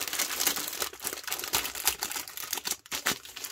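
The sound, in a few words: plastic food packet crinkling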